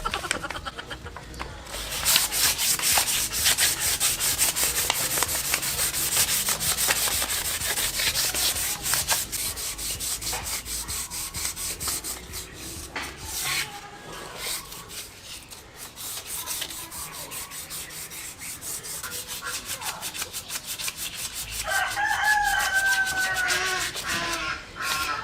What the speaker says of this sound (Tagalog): ngayon pwede na natin siyang iliha